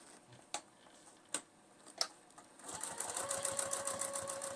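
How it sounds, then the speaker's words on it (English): A few sharp clicks are followed by a domestic sewing machine that starts stitching fabric along a cardstock guide, a rapid, even mechanical whir with ticking needle strokes, close and moderately quiet. "Just stitching on the outside of the card, back stitching at the beginning and ending."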